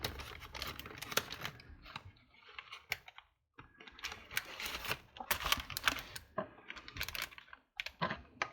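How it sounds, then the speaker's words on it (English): Craft material crinkles and rustles in loud, irregular bursts with brief pauses during art journaling, handled close to the microphone. "Sorry, I'm crinkling."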